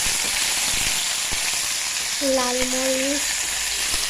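Onions hit hot soybean oil and set off a steady, close sizzle from start to end, with a brief spoken phrase over it midway.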